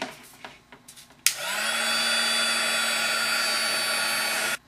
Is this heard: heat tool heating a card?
yes